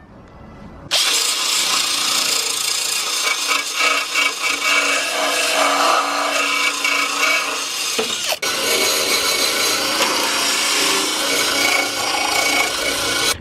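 A wire wheel scrubs hard against a rusty radiator support from an old wagon, a loud, steady abrasive rasp that starts abruptly after a brief quiet moment and continues almost unbroken, with one short dip partway through.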